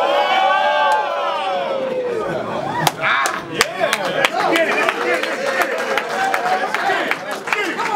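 A crowd at a rap battle cheers and claps loudly throughout. Sharp bursts of clapping and shouts rise over a dense, steady roar of voices, with a voice heard within the noise.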